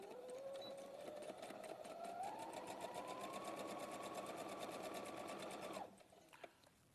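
Sewing machine stitching in a fast steady run, a close rhythmic mechanical whir with a rising motor tone, stopping abruptly near the end, followed by a couple of soft clicks.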